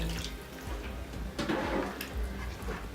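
A cup of water poured into a pan of curry with toasted spices, grated tomatoes and tomato paste gives a continuous splashing, gurgling rush lasting a few seconds, moderately loud and close, with no talking.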